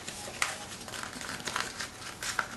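Paper crinkles and rustles steadily as its sides are folded into the middle to shape a small trinket box, with soft crisp creases and a few sharper snaps, close and without talk.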